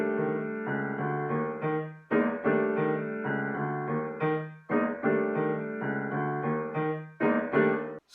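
A tune is played on a sustained, harmonically rich instrument, with notes and chords pushed in a syncopated partido alto rhythm, steady and moderately loud with no voices.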